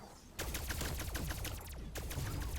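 Gunfire in Call of Duty zombies on the Firebase Z map bursts in after a brief pause, a dense run of rapid shots with echoing cracks lasting a couple of seconds, loud and close.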